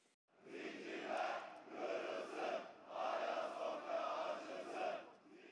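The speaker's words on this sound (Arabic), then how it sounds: "هتافات أنصار الجماعات التي دعت إلى هذه الصلاة" A large crowd of supporters outside Hagia Sophia in Istanbul chants in rhythmic, repeated bursts of massed voices, heard faintly and from a distance with brief pauses between phrases.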